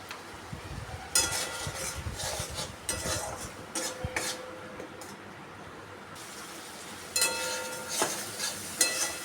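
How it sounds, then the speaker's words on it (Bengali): Spice paste fries in a pan with water added, soft sizzling under scraping and clinking strokes of a spoon stirring, quiet and close, with bursts of louder sizzle and metal taps. "জল দিয়ে মশলাটাকে ভালো করে কষিয়ে নিতে হবে।"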